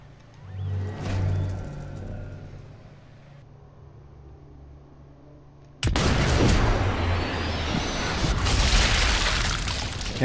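Sniper rifle fired in the video game Sniper 4, heavy booming shots with low rumbling tails, followed by a loud sustained burst of noise.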